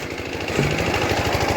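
An engine-driven borewell drilling rig runs in a village, a loud, steady, close mechanical chugging with a rapid rhythmic thump that goes on throughout. No one speaks.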